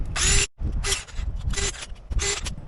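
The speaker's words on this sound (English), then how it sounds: "I'm going to use my drill just to go ahead and get these all the way in" A cordless power drill drives brake kit bolts on a Razor Crazy Cart, four loud whirring bursts of roughly half a second each, close up, separated by short pauses.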